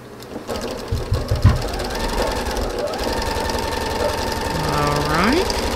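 A sewing machine stitches a quilt block seam for a Halloween-themed quilt, a loud steady rapid chatter running almost the whole time, close up, with brief handling knocks early on.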